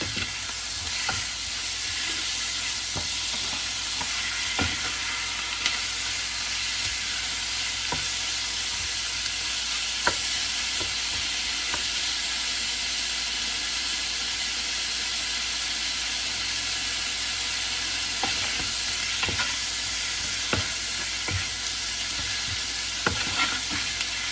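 Meat sizzling steadily in a pan with turmeric, frying loudly and close throughout, with occasional sharp clicks and scrapes as it is stirred.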